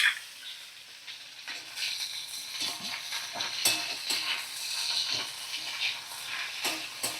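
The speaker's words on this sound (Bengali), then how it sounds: "কাঁচা গন্ধটা চলে যাওয়া পর্যন্ত আমি ব্রোকলি আর ফুলকপি ভেজে নেব" Broccoli and cauliflower florets frying in oil in a pan, a steady close hiss and sizzle with frequent stirring scrapes, moderately loud and continuous.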